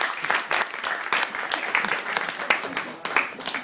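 An audience applauds a poet after a poetry reading, a dense, steady burst of clapping close by with a voice speaking over it.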